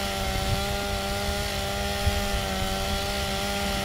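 Steady chainsaw drone from the Gears of War 2 video game, a constant buzzing engine whine held loud and unbroken throughout with no talk over it.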